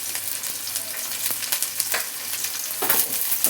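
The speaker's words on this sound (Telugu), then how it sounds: "ఇప్పుడు ఆనియన్స్ యాడ్ చేసుకుందాం" Chopped onions fry with a pinch of salt in a hot pan, giving a steady dense sizzle with occasional crackles and stirring scrapes, close and continuous with no talk.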